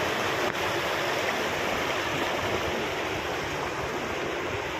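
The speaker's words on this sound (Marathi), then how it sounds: "फॉलचं पाणी आहे मित्रांनो. पाण्याचा खळखळाट बघा." Water from the Anand Wadi waterfall near Neral gushes over large rocks in a steady, loud, close rushing roar that holds unbroken throughout, with no voices.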